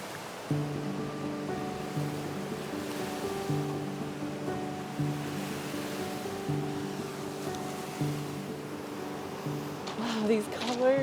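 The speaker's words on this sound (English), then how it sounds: "film the waves." Sea waves on the Scottish coast roll in as a constant wash under a steady background tone, with a faint voice near the end.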